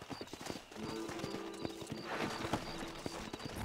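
Horse hooves clip-clop steadily in the video game Red Dead Redemption, a quick repeating rhythm of fairly faint knocks under game ambience and a faint whinny.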